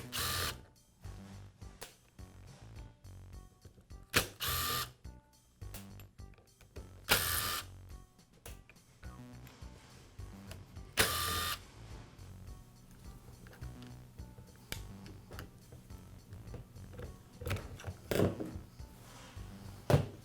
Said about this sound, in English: Next, I'll remove the spindle housing from the gearbox housing.